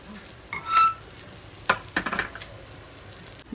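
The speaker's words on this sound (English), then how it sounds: "that's just sizzling softly" Lentil stew ingredients sizzling softly in a pot with salt, heard as a faint crackling frying sound broken by a few brief stirring or scraping noises, close by and with no talking.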